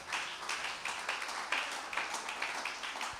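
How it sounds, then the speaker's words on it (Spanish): A church congregation claps in steady, dense applause heard from some distance, forming a continuous rattle with regular peaks and no voices over it. "Dale un aplauso al Señor"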